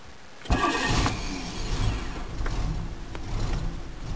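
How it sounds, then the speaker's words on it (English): A 1994 Cadillac DeVille engine with its idle control unplugged catches after a moment of quiet and then runs at a steady, slightly uneven idle, close and moderately loud. "It's running like this because the idle control, I had to unplug it."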